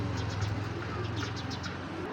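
Pigeons coo low and steady close by, a pure-bred green-necked pair among a seller's stock, with soft rhythmic calls under faint background noise.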